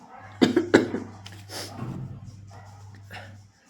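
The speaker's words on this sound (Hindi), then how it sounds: "मेरा गला और थोड़ी खांसी हो रही है" A few sharp coughs from a person with a sore throat, close to the mic, followed by softer throat sounds over a low steady hum.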